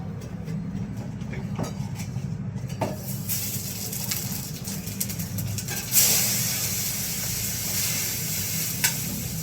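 Onion and tomato sizzle in hot oil in a pan, a steady crackling hiss with occasional stirring scrapes and a sharp burst of spitting partway through.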